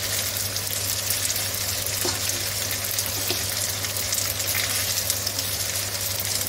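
Salmon pasta sizzles and crackles in a frying pan while being stirred, a constant close hissing fry with soft scraping and occasional clicks, and no talk.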